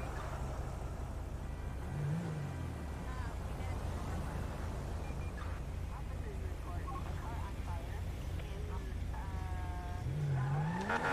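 A car racing through traffic in GTA 5 during a highway patrol pursuit, with a steady engine roar, a couple of tire squeals and someone talking over it throughout.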